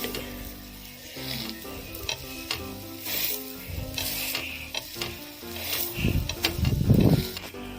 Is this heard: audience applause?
no